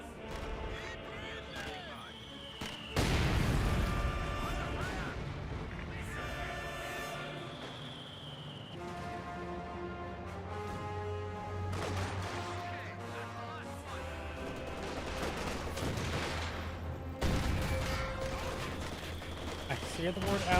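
A Katyusha rocket barrage in the Company of Heroes 2 strategy game, a roaring wave of launches and blasts with whistling streaks and mechanical clatter, heard under a commentator's talk.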